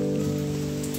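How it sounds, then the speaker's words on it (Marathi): Heavy monsoon rain pours steadily, a dense, continuous hiss of drops on surfaces, fairly loud, with a low steady hum underneath and no voices. "पाऊस पडतोय"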